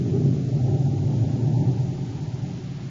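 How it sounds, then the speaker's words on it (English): Deep, steady thunderstorm rumble rolling continuously at close range, a radio drama sound effect for a storm near an office shack on a mountain, with no voices over it. "As the storm builds in violence"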